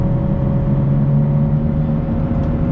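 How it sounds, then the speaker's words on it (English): A 2008 Nissan Rogue with a 4-cylinder engine accelerates slowly, giving a steady, loud engine drone with a constant low hum and whir that holds throughout, with no voices. "I do feel that it's a slow acceleration"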